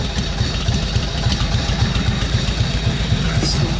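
A motorcycle engine fires from cold and settles into a loud, close idle, its rapid lumpy pulsing thumping on without a break, with some mechanical clatter on top and nobody talking.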